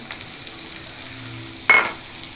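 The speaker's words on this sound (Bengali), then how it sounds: "একটু ভাজা হবে, খুব বেশি ভাজা হয় না জানেন, খুব বেশি লাল করে ভাজে না" Capsicum and onion fry in a pan with a steady, even sizzle throughout, broken by one brief louder burst of hissing near the end as the food is stirred.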